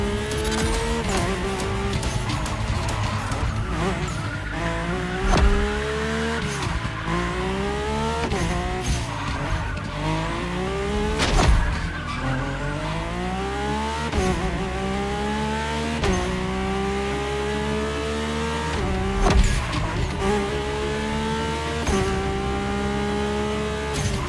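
Mercedes-AMG One hypercar with Formula One-derived powertrain in The Crew Motorfest racing game, its engine screaming through rising gear-by-gear sweeps with sharp shift breaks, tire squeals and skids, loud and continuous without voices.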